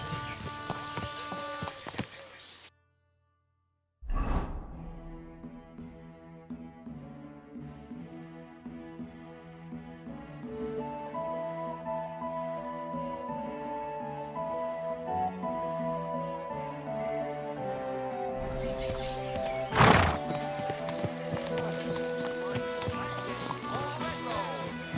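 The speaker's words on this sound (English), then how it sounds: "Do you want that horse to trample me?" Horse hoofbeats clop along with a neigh in the medieval game Kingdom Come Deliverance 2, set under sustained background music with a louder burst near the end and a brief silent gap early on.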